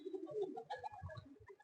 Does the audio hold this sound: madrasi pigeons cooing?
yes